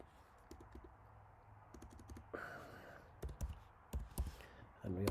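Computer keyboard keys clicking in short irregular bursts while code is entered into Python's IDLE editor, close and fairly quiet, with a voice speaking intermittently over the typing.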